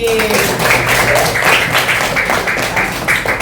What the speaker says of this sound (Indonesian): Ya, tepuk tangan buat Tami